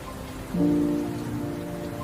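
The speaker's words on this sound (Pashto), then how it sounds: "باد او باران" Rain driven by wind makes a short, steady wash of noise, with a low tonal hum rising partway through.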